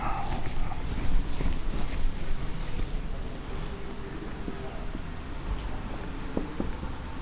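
Pen scratching on paper while writing out a matrix product, steady soft scratching strokes with small ticks, close and continuous throughout.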